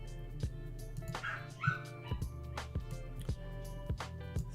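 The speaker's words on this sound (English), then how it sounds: "excuse the barking dog in the background." A dog barks repeatedly in the background behind an indoor game-testing session, short sharp yips and bow-wows recurring at irregular intervals, fairly faint under a steady low hum.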